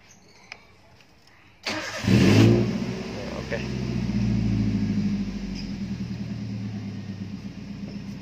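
A Toyota Avanza fitted with a passive keyless start system cranks and fires up after a brief starter whir, then settles into a steady, close idle rumble with a quick rev. A voice talks faintly around it.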